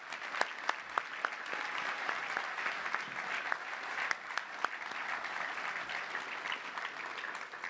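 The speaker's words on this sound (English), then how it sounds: "Let's give a round of applause to all of our honorees." Audience applause at a Touch Down Club banquet honoring award recipients, steady sustained clapping from a large room with a few sharper individual claps standing out, continuous and moderately loud throughout without speech.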